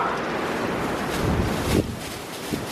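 Strong 50 mph wind roars and buffets the microphone continuously outdoors, with a sharp gust near the end and no talk.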